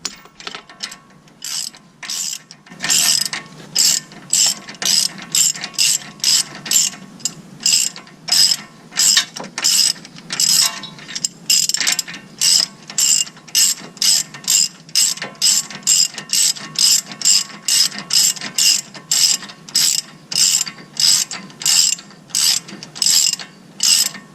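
A ratchet wrench tightens the intermediate shaft bolt on a Dodge Caliber SRT-4, a long run of rapid, close clicking strokes in steady bursts with brief pauses between, loud and with no talk over it.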